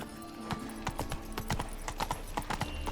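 Horse hooves clip-clop in a steady galloping rhythm in The Witcher 3, sharp repeated thuds up close over a constant ambient game background with no talking.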